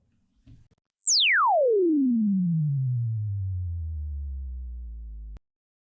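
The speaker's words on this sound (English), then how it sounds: "Here is the stimulus signal." A pure sine sweep test stimulus used for transient distortion measurement glides smoothly downward from very high to very low pitch over about four and a half seconds, steady and clean, then cuts off abruptly.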